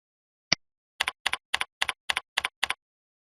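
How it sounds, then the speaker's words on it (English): Fingers tap a computer keyboard nearby: a single click, then a quick steady run of paired keystrokes, quiet and alone. "Type in the correct answer."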